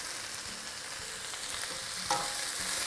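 Thinly sliced carrot, green pepper and other vegetables stir-fry for noodles with a continuous sizzle. A utensil scrapes and turns the pan at irregular intervals, with a sharper clatter near the end.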